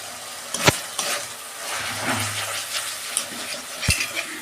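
Banana flower and shrimp sauté with turmeric, cumin powder and salt in a pan, a steady low sizzle broken by sharp spatula knocks and scraping as the mixture is stirred.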